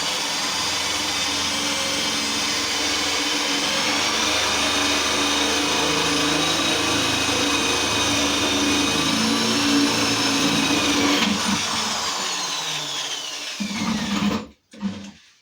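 A power tool whines steadily at high speed for a long stretch, then stops abruptly and sputters briefly near the end.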